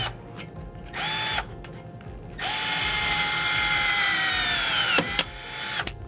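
A battery-powered cable tie installation tool whirs in short motor bursts, one brief run and then a longer sustained whine that slowly drops in pitch, followed by sharp clicks as the tie is tensioned and cut.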